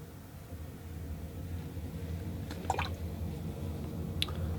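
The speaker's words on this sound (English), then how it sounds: "I rinse off my brush, I dry off the water" A watercolor paintbrush is rinsed in water, giving a few quiet wet squishes and drips over steady low background noise.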